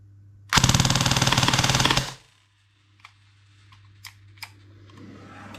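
Brushless-motor T238 foam dart blaster firing on full auto through a chronograph, about one and a half seconds of loud, rapid mechanical rattling shots, then silence with a few faint clicks.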